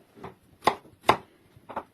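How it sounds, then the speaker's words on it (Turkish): A knife chops a potato into small cubes on a cutting board, four separate knocks at an uneven pace, close and fairly quiet. "Bir tane patatesi küçük küpler halinde doğradım."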